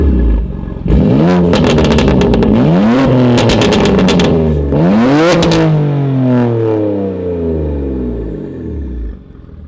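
BMW M2 Competition exhaust with valves open, revved in a series of loud, raspy blips that climb and fall, each rev swelling then settling back, close to the microphone with no talking.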